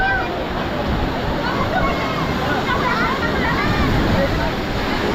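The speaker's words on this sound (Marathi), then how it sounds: "पाहू शकता इकडून कसल्या जोरात लाटा येतात" Strong sea waves crash and churn around the Gangeshwar sea temple at Diu, a loud, continuous roar of surf and sloshing water close by with no voices.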